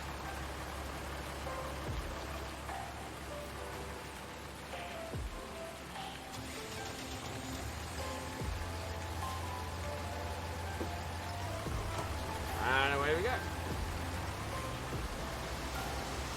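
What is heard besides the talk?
rain in the video game Farming Simulator 19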